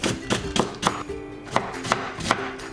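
A kitchen knife slices flattened vegetable leaves into thin strips for yaki udon, making about eight crisp, evenly spaced chops against a cutting board, close and clear with no talking.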